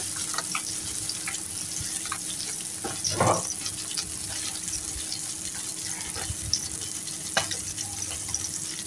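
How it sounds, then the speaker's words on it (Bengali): Chopped onion frying in oil in a pot: a steady, soft background sizzle with occasional stirring scrapes and a louder clatter near the middle, no voices. "পেঁয়াজটাকে হালকা লালচে কালার করে ভেজে নেব"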